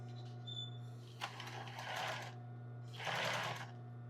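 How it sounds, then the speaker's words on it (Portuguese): A sewing machine stitches an embroidered tulle bra in two short bursts of fast, even needle chatter, close and fairly loud, with a low steady motor hum in between. "Que agora eu vou costurar o outro lado."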